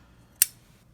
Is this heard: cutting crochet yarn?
yes